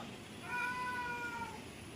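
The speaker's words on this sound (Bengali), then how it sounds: "আমার ব্লগে ঢুকে গেছে বিল্লিটা" A cat gives a single drawn-out meow at a distance, faint over a steady background hiss.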